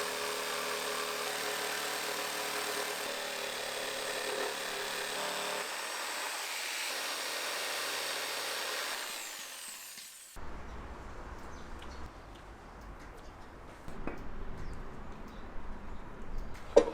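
A power tool cuts a recess into the wooden top of a handmade nightstand, a steady loud whine for about ten seconds, then stopping and giving way to quieter scraping and handling noises.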